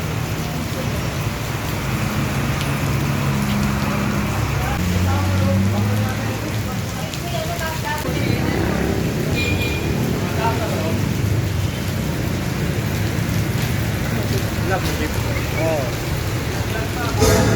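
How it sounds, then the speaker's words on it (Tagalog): Steady heavy rain pours during flooding in Dalandanan, Valenzuela, a constant close wash of noise across the whole stretch, with faint voices now and then beneath it. "Ulan."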